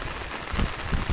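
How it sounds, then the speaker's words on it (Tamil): Heavy rain pours down steadily during outdoor cooking of grill chicken, a dense continuous hiss and patter with no voices. "சரியான மழை"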